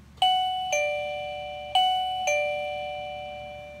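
A loud doorbell rings twice, each press giving a clear two-tone ding-dong chime that rings on and fades slowly in a quiet room.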